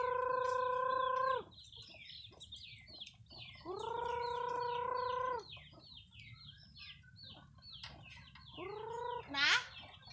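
Chickens call in a farmyard, with three long, drawn-out cries and scattered clucks around them, ending in a short rising squawk, all moderately faint against a low background hum.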